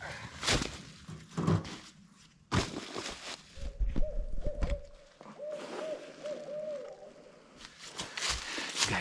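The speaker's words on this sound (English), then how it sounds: "You guys just hear that owl?" An owl hoots repeatedly in a forest at dusk, a series of low, soft hoots in the middle of the clip amid quiet rustling and footsteps from a nearby hunter's camp.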